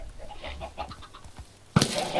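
Minecraft chickens clucking in a series of short soft calls, followed by a sudden louder burst of game noise at the end.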